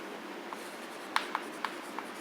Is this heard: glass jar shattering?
no